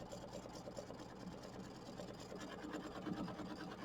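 An embroidery machine stitches an applique tack-down on a quilt block, a quiet, steady rhythmic mechanical whirr with fast repeating needle pulses and no talking.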